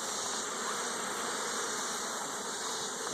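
Honey bees buzzing around an open colony during a hive split, a dense continuous drone close by and steady in level, with no voices.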